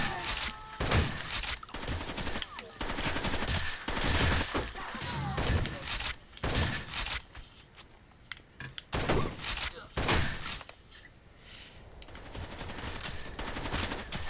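Dense bursts of automatic gunfire and scattered single shots from Rainbow Six Vegas 2 fill the scene, loud and close, with short pauses between volleys and quieter background noise toward the end.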